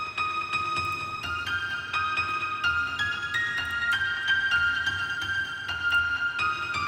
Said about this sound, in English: This is like a piano from Nexus.